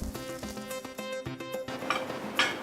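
Metal spatula scraping hard against an iron wok during vigorous stir-frying, with repeated rhythmic clangs and scrapes over a faint sizzle, close and steady throughout.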